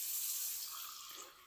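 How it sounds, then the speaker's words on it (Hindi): Water poured into semolina while making crispy suji snacks, a steady soft splashing stream heard alone and close for the whole moment, tapering slightly toward the end. "इसके अंदर 1 कप मैं मेजरमेंट के हिसाब से पानी डालूँगा"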